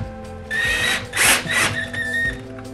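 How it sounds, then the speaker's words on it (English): A power driver whirs as screws go into an interior door panel of a Chrysler PT Cruiser during a door handle repair, a steady close motor drone that rises and dips in a couple of pushes. "Gonna put some screws in, like a total of 3."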